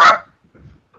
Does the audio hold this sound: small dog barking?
yes